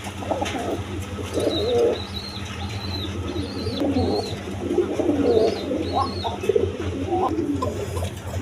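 A pair of Arabian koka pigeons coo close by, the female's soft repeated throaty calls rising and falling over a low background hum, with a few faint wing flutters.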